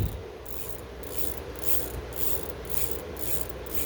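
A heavily greased freewheel on a Citizen folding bike during a rebuild ticks as it is turned by hand, a fast ratcheting buzz that pulses in regular bursts about twice a second, close and fairly quiet.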